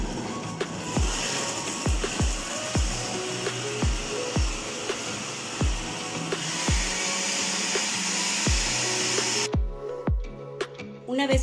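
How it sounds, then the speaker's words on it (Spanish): A blender whirs loudly and continuously as it purées guava paste with milk for a gelatin dessert, with a regular knocking pulse through the run until the motor cuts off near the end. "Vamos a licuar todos estos ingredientes perfectamente para que se integren."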